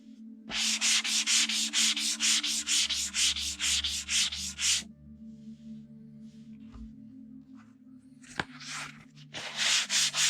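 A paperback book, clamped firmly, is sanded during a rebind into a hardback: a fast run of about fifteen rhythmic rasping strokes, then a quiet pause with faint handling, and the scraping strokes resume at the end.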